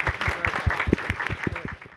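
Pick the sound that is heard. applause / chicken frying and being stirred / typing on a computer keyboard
applause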